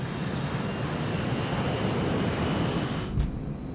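A test plane accelerates down the runway and lifts off, a steady, loud broadband engine and rolling roar holding throughout with a brief surge near the end.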